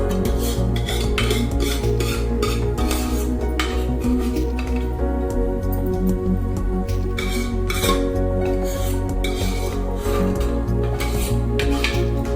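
A metal spoon stirs pav bhaji vegetables with kasuri methi in a pan, giving steady scraping and clinking throughout, dense and close, with no talking.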